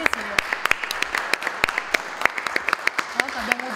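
Scattered clapping from a small group, uneven and sparse, with murmuring voices and a brief tone underneath.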